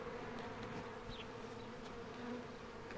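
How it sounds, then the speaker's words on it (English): Honeybees hum continuously around a newly installed backyard hive box, a steady droning buzz with individual bees passing close by. "Got our bees home. Got them in the box just fine."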